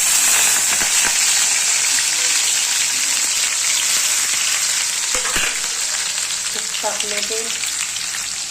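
Chilies and garlic crackle in hot tempering oil for a fenugreek-leaf dish, a loud, continuous sizzle with occasional stirring clinks and a brief voice.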